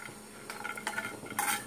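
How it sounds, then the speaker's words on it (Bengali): Peanuts dry-roasting in an oil-free pan, stirred in short bursts: soft scraping and light clinks of a utensil against the pan, with a brighter rattling stir near the end, close and fairly quiet. "চিনি বাদামটা এখানে আমি ভেজে নিচ্ছি, শুকনো খোলাতেই ভাজছি"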